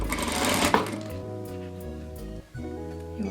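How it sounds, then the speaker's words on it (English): A sewing machine stitching fabric around piping cord, a steady close whirring run with a brief pause near the end. "You want your stitch to be nice and close to the cord."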